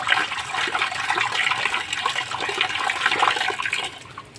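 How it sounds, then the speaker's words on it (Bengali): Sea fish being rinsed clean in water, a continuous splashing and sloshing of water over the fish with irregular bursts, fairly loud and close, tapering off at the end. "মাছটা সুন্দর মতন ধুয়ে নেব"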